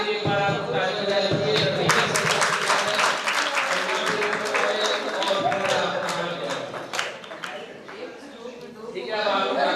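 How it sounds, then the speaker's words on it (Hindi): An audience at a Tulsi Jayanti event at a women's college claps in a sustained burst of applause, fairly close, fading somewhat toward the end with voices mixed in. "एक बार आप ताली बजाइए"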